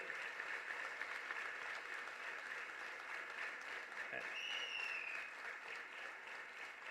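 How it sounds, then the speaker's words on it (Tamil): Applause from a crowd at a Tamil political rally, steady and continuous throughout, with a distant hum of voices mixed in. "கைத்தட்டு பத்தாது"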